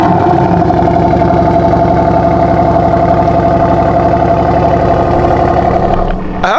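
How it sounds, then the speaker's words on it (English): A 2025 Lamborghini Urus SE, twin-turbo V8 hybrid, fires up from cold and holds a loud, steady, close-up idle with a dense rumble for about six seconds before it settles and briefly dips at the end. "Let's listen for this cold start."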